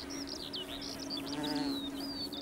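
A bee buzzes around an orchid flower, a faint, steady drone beneath chirping birdsong in an outdoor setting.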